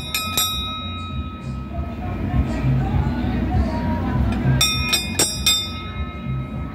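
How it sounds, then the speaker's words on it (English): A small bell on an elephant kiddie ride at Memo Park rings in two quick bursts of sharp metallic dings, one at the start and another near the end, over a steady low mechanical rumble. "I think that bell ring is for emergencies"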